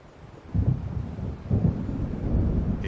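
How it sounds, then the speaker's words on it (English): In the game Alan Wake, an approaching storm's thunder gives two deep rolling rumbles about a second apart, then a sustained low grumble with wind, fairly distant and heavy, with no voices. "It seems there's a storm coming."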